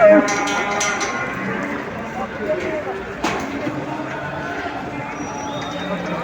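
Livestock arrive at the Çubuk animal market, sheep and other animals moving and clattering amid busy crowd noise, with people talking throughout and a few sharp knocks.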